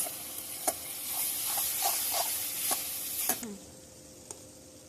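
Chepa shutki, dried fish, fries in a pan with a steady soft sizzle and hiss, and a few sharp scrapes of stirring on top before the sound drops away near the end.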